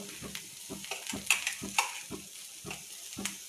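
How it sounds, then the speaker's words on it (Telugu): A spoon stirs salt through a bowl of sweet corn chaat with tomato pieces, a close, moist rhythmic scraping and squishing roughly every half second, soft and steady. "పావు టీ స్పూన్ సాల్ట్ మొత్తం కలుపుకోవాలి"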